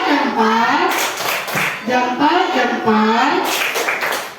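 A classroom group performs the rhythmic 'tepuk salut' clap chant, sharp hand claps mixed with children's and a teacher's sing-song voices throughout, steady and close.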